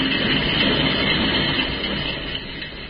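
Train ride sound effect in an old-time radio drama: a steady, loud rumble of rolling rail cars with muffled clatter, heard alone with no voices.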